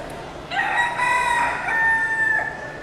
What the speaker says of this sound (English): it sounds like someone here actually has a crate of roosters that they're waiting to take on a bus